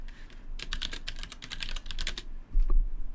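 A computer keyboard clacks in a rapid, close burst of keystrokes during a home-lab livestream, then goes briefly quiet before a low thump and a few more clicks.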